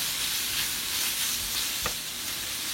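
White onion, red pepper and green pepper sautéing in a pan for sizzling chilli chicken, a steady close hiss and crackle of frying that never lets up, with a brief clink of the spoon partway through.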